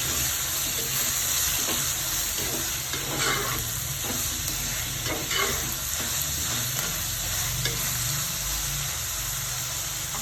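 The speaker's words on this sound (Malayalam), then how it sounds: "ഇനി കൊച്ചുള്ളിയും സവാളയും അരിഞ്ഞു വെച്ചത് ഇട്ട് കൊടുക്കാം" Finely chopped shallots and onions sizzle steadily in a hot pan for a prawn thoran, with occasional stirring scrapes over the constant close frying hiss.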